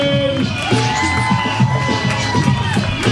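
A comedy club crowd cheers and whoops for the host walking on, a dense, steady roar of many voices with shouts rising above it throughout, while music plays underneath.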